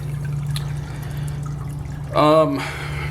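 Water trickles steadily from an aquarium sit-on-the-back sump filter, a continuous splashing flow with a low pump hum, swelling briefly louder near the end.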